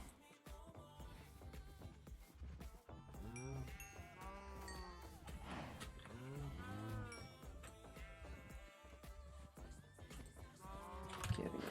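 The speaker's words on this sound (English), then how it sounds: "Let's breed our cows." Cows in the Minecraft hardcore modpack moo and low repeatedly over in-game background music, with several animal calls overlapping close by and no talking.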